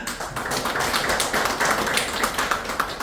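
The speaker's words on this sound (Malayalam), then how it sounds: "ഒരു കൈയടി കൊടുക്കാം" An audience applauding Chandy Oommen MLA at a public event in Puthuppally, a dense, sustained patter of many hands clapping together, fairly close and steady throughout.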